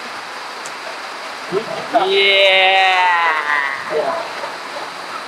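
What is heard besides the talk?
rain falling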